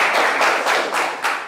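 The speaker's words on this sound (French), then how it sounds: "on peut l'applaudir très très fort" A studio audience applauds during a French television-style show, with a short burst of clapping and several distinct surges of hand claps over about a second and a half.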